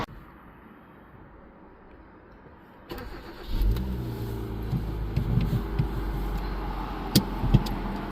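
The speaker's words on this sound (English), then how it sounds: "let's fire up this Rio" Kia Rio engine starting up after a quiet pause, the starter cranks briefly and the motor catches into a rough, steady idle with a few small revs, close and fairly loud.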